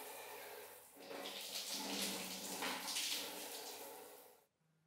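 Water rushes steadily from the lower tap and shower of a newly installed Ariston electric water heater, a loud continuous close-up stream that swells slightly and then cuts off abruptly near the end.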